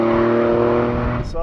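A high-performance Alfa Romeo Stelvio Quadrifoglio SUV engine and exhaust rev loudly and steadily up close, a sustained sonorous drone with strong harmonics that eases off near the end.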